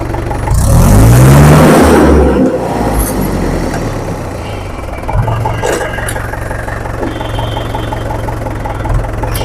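A long-used farm tractor's engine runs close by, opening with a loud revving surge before settling into a steady, heavy low rumble.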